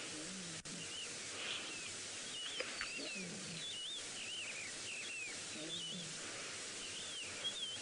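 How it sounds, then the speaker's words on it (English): A young lion gives soft, low murmuring vocalizations, faint and intermittent, on a sunrise safari drive, with birds chirping steadily in the background. "Very soft little murmurs coming from this little lion."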